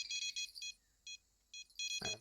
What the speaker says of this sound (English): Let's bring down that beepy to beep beep a small bit so I'm not deafening everyone's ears.